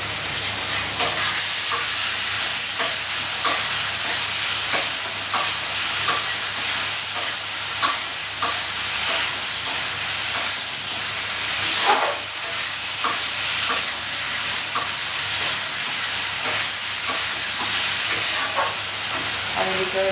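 Ginger, cumin and chilli paste fries in hot oil with a steady, close sizzle, broken by regular scrapes and clicks of a spoon stirring it in the pan, with no talking.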